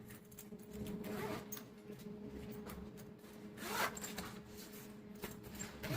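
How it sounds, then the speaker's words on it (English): A zipper on a gamepad bag panel being pulled open, a steady close rasping scrape that rises in a few louder strokes over about six seconds, with no talking. "A zipper on this panel."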